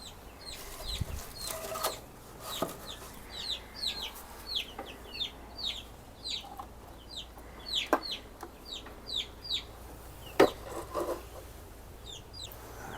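Baby chicks in a brooder box during a cleanout, with a fresh layer of bedding, give off many rapid high peeps and soft clucks throughout, over faint background rustling and occasional louder knocks.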